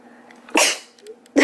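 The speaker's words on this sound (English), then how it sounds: "Oh, excuse me, I have to sneeze" A close, sharp sneeze bursts out indoors, followed moments later by a second explosive burst, with quiet room tone in between.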